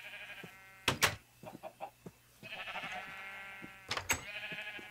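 Minecraft sheep bleat repeatedly in a game world, wavering calls broken up by sharp clicks and short knocking taps, close and fairly loud, with no one speaking.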